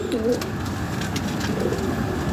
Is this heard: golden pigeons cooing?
yes